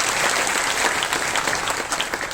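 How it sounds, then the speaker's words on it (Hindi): Applause from an audience at a spiritual gathering honouring a local police station chief, a dense, steady clapping from many hands, loud and continuous throughout. "ताली बजाकर सम्मान करो"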